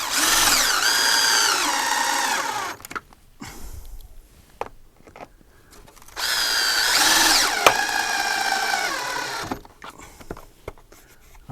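Two long bursts of a power drill whining as it drives self-drilling screws, each several seconds, with quiet handling noises and clatter in between.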